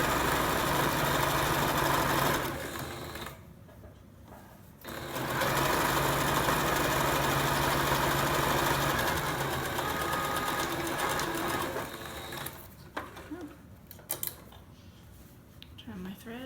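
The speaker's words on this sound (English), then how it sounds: "I am stitching from belly button to back," A sewing machine runs in long continuous bursts stitching the crotch seam of reversible shorts, a steady close whirring hum that pauses briefly, then resumes before stopping, with someone talking over it.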